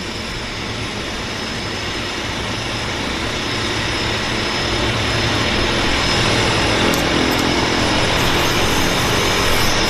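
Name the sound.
Harbour Air de Havilland Twin Otter floatplane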